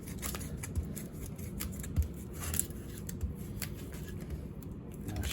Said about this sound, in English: I'm actually going to take this tin foil right now and just kind of roll it on there.